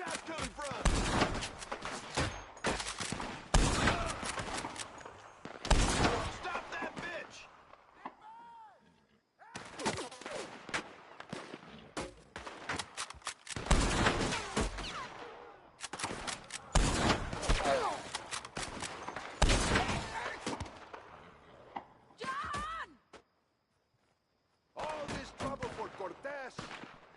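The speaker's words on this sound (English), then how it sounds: "They're up on the slope! Where them shots coming from?" Gunfire in a Red Dead Redemption 2 shootout: repeated sharp, loud shots and bursts in clusters across the whole stretch, with short lulls and one near-silent gap, while voices shout over the action.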